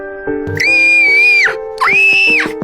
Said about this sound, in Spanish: Pepa empezó a gritar muy fuerte de dolor, alertando a los vecinos